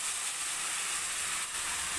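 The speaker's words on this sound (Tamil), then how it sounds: "இப்போ புளி தண்ணியை ஊற்றிடலாம்." A steady, loud sizzling hiss as tamarind water hits a hot pan for tamarind rice paste, continuous for the whole moment with no voices.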